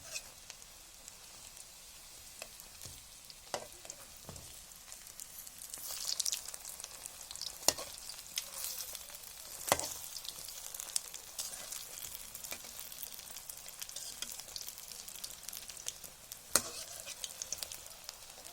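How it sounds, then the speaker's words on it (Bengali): Potato rolls deep frying in oil, a soft, steady bubbling sizzle with scattered faint pops and occasional louder clicks from turning, fairly quiet throughout with no talking. "সবগুলা বাদামি কাজলা করে ভেজে নেব।"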